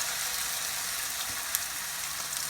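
Fried green tomatoes (tatume squash) frying in oil, a constant, even hiss of bubbling sizzle with a single small pop, heard up close and without any voices.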